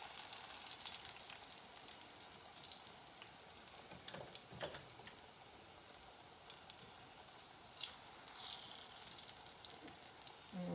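Yellow sweet plantains frying Jamaican style in a pan, a soft steady sizzle and crackle of hot oil with occasional sharper pops and light utensil clicks, no talking.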